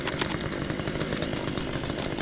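A ported chainsaw with a 32-inch bar revs at full throttle in a mountain community during dead pine removal, a loud, close, continuous buzzing roar with no talking.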